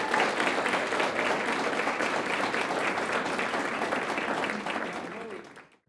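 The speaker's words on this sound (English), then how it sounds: "Big round of applause." A theatre audience applauds the local authors before a performance, a dense, steady round of clapping that holds evenly and then fades out quickly at the end.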